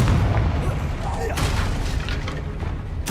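Bombarda and Confringo explosion spells in Hogwarts Legacy, heavy booming blasts under continuous loud talk, with a sharp burst at the very end.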